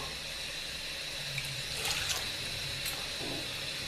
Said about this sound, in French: je mets 230 millilitres d'eau